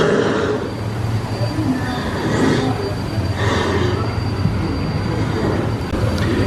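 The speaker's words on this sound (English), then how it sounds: "That is actual steam. The steam engine's down there, the boiler room, which powers the wheel in the back." The steam engine driving the paddle wheel of the Liberty Belle riverboat at Walt Disney World gives a loud, continuous hiss and churning rumble, heard up close with no pause.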